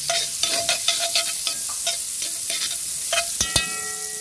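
Mushrooms cooking in butter with garlic in a large batch for a wedding olive tagine, heard as a soft sizzle with repeated scraping and clinking stirring strokes close by.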